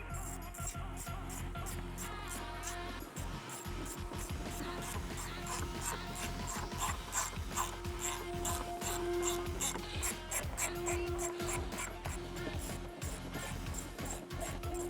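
A power driver with a T30 bit runs screws into rib nuts on a Nissan Xterra Pro-4X roof, a continuous close whirring and rasping grind that carries on steadily throughout with brief rhythmic catches.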